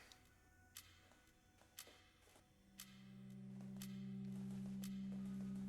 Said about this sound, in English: We just have a ticking clock.